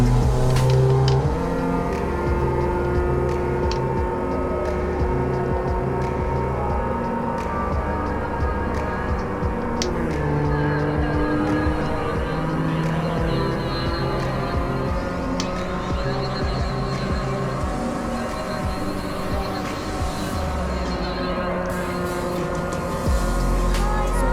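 A heavy truck engine in Euro Truck Simulator 2 drones and climbs in pitch continuously as it accelerates, with layered harmonic whine and background music, no talk.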